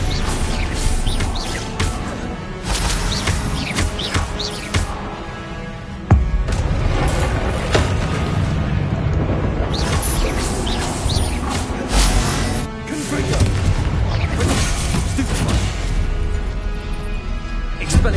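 In Hogwarts Legacy, Confringo explosion spells go off as loud booming blasts and crashes over dense, continuous game combat noise, with near-constant rumbling and sharp impacts throughout.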